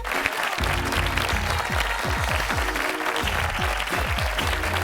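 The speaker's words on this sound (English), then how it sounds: "Let's give these top earners a round of applause." Sustained applause from a crowd, dense steady clapping throughout with a musical tone sliding underneath.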